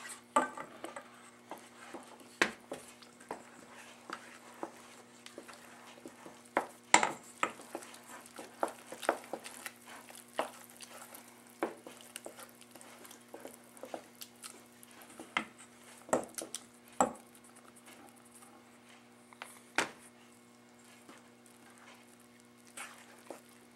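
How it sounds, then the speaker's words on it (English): A utensil stirs flour into focaccia dough in a bowl, giving repeated scraping knocks and clinks at an uneven rhythm over a steady background hum, up close and moderately loud. "Just stir it in gradually. It's going to start to thicken up and become a dough"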